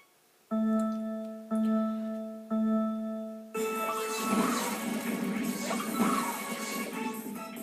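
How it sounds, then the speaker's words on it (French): Crates smashing apart under a rolling ball in the Super Mario Galaxy 2 video game: after three short repeated tones, a long loud burst of crashing and clattering debris fills the rest, close and continuous. "c'est vrai que je t'ai cassé plusieurs caisses avec une seule boule"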